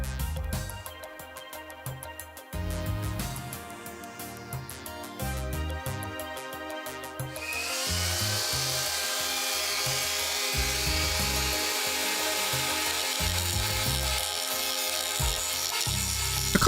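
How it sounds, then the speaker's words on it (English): A cut-off wheel slices through the plastic shroud of an ASUS GTX 650 graphics card, a high whine with intermittent grinding bursts, close by, first in short touches and then in longer continuous cuts. "A cut-off wheel makes easy work of the plastic"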